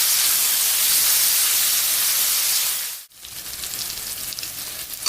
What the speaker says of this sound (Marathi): आता मी यामध्ये एक मोठा चिरलेला टोमॅटो टाकते हा सुद्धा आपण चांगला परतून घेणार आहोत